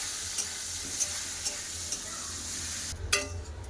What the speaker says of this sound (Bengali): কেটে রাখা পেঁয়াজ ভালো করে ভেজে নেবো লাল করে